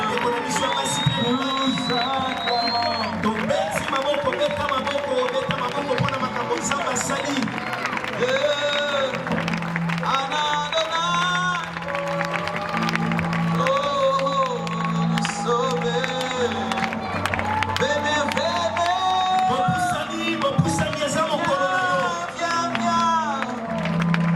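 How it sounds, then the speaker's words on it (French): A large crowd at a Parousia Day gathering cheers and applauses continuously, dense clapping and whooping with voices rising throughout, loud and close, while sung or spoken voices carry over it. "Nous acclamons pour eux."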